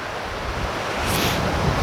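River waves roar at a surf spot by a dam in Boise, Idaho: a loud, continuous rush of churning water with wind buffeting the microphone, steady and close.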